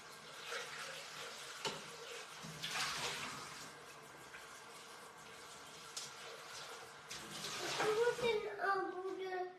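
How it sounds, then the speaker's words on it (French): Tap water rinses a Thermomix bowl in a home kitchen, a steady, soft splashing stream running throughout that grows fuller near the end, with people talking over it. "je vais aller juste rincer le bol"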